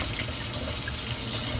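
Steady rush of water running from a home's hot and cold supply taps after the supply sat unused, a close, constant flow with no talk.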